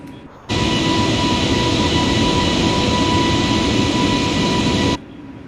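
Steady roar inside a Frontier Airlines airliner cockpit in Microsoft Flight Simulator as the landing gear retracts, a loud, even broadband rush with a constant hum that cuts in abruptly and stops cleanly about four and a half seconds later.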